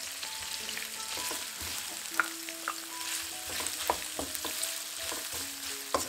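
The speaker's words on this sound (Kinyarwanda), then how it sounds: "noneho dukomeze tubikaranga kugeza bihiye" Onion frying in a pan for Kenyan chips masala, a constant close sizzle with soft scraping and clinks of a utensil stirring at irregular intervals, no talking.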